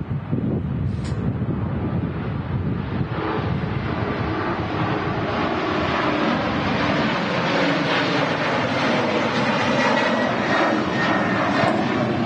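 A Ryanair airliner departing Manchester Airport as a storm moves in, making a loud, steady jet roar that holds throughout, mixed with gusting wind buffeting the microphone.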